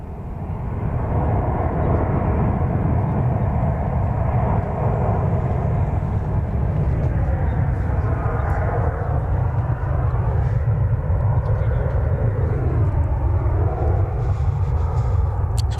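A 23-year-old Boeing 747 jet airliner on a long-haul flight from London Heathrow roars steadily at DFW Airport, a loud continuous jet engine rumble that swells and shifts in pitch as it passes, with no talking.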